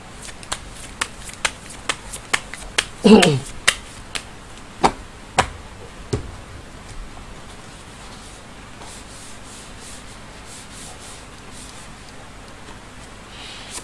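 Tarot cards being shuffled and handled for a fortune reading, a series of crisp, evenly spaced snaps and flicks in the first half, a denser rustle around the third second, then quiet with occasional faint ticks.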